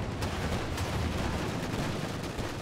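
Dense, continuous gunfire from a 222 armored car chasing a half-track in the World War II strategy game Company of Heroes 2, with repeated sharp shot bursts over a constant rumble of battle noise.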